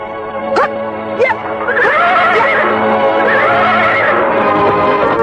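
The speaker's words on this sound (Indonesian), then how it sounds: "Harnum dan Pramita memacu kuda-kuda mereka dengan cepat ke arah barat" Horses neigh loudly in a radio drama sound effect, with two short snorts and then long, overlapping whinnies over a steady, rumbling bed that hints at hooves.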